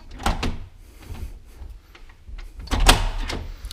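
A door in a renovated house is opened with a rumbling slide and a couple of knocks and clunks, close by, and a louder thump near the end.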